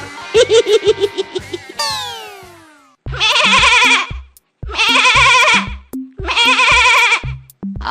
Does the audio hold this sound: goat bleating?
yes